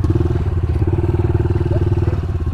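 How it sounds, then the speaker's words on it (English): A pit bike engine chugs with a steady, throbbing rhythm on wet, sandy trails, loud and close, with no talk over it. "Seems like the perfect place for a pit bike."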